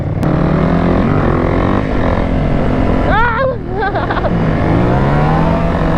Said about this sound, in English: I want to see a straight wheelie